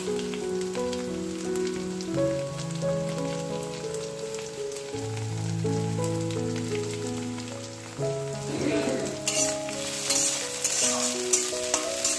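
Chopped ginger and whole garlic cloves sizzle in hot ghee in a pan, a steady crackling fry that runs throughout, with stirring and a brief louder spatter over background music.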